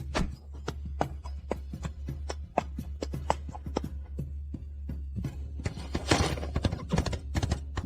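Hooves clip-clop in a quick, uneven run of sharp close knocks over a low rumble, with a horse's brief whinny and a whooshing burst near the end.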